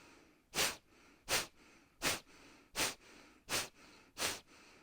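Kapalabhati pranayama breathing, six forceful nasal exhalations in a steady rhythm about once every 0.7 seconds, each a sharp close puff with quiet passive inhales between.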